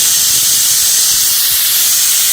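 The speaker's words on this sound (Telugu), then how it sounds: "5 విజిల్ల తర్వాత ఎయిర్ తీస్తున్నాము," A pressure cooker of mixed vegetable curry has its steam released after five whistles, giving a loud, continuous, close-up hiss that does not let up.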